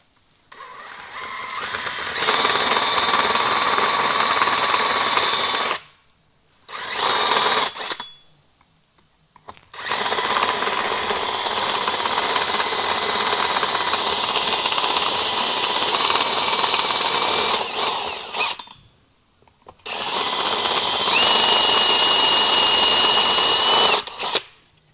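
A machine tool cuts valve guides down to the existing cast iron guides in a cylinder head. It gives a loud, steady high whine with a faint tone that runs for several seconds, stops, then runs in three more long passes with short silent gaps between them.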